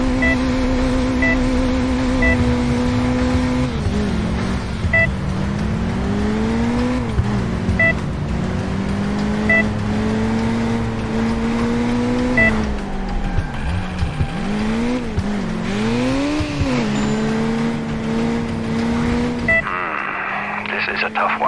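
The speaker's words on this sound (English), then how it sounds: "The car will now try to get away from you." In the Crash Time II driving game, a fleeing car's engine roars loudly and continuously, its pitch repeatedly climbing and dropping through gear changes and swerves, over a constant backdrop of game sound.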